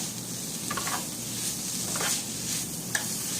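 Pork filling for gorditas sizzles steadily in a hot pan while a utensil stirs through it, with scraping strokes breaking through the constant frying hiss; no voices.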